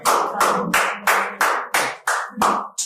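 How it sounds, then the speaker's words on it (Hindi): Steady applause from a crowd at a Hindi poetry recital, dense clapping with rhythmic swells roughly every third of a second, loud and close, no voices over it. "एक बार जोरदार ताली होनी चाहिए"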